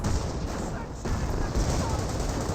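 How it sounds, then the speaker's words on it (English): A Company of Heroes 1 artillery barrage in a Wehrmacht versus British match: a dense, continuous roar of shelling with crackling bursts, loud and sustained throughout, with no clear gaps between impacts. "Here comes the next barrage."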